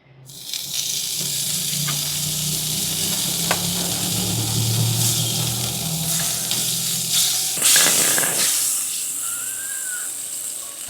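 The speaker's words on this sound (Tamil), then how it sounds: "இப்போ அடுத்தது வந்து மறுபடியும் கொஞ்சமாக பட்டர் சேர்த்துருவோம்" Butter sizzling in a pan while cooking aval ladoo, a steady close hiss and crackle with occasional stirring scrapes and clinks.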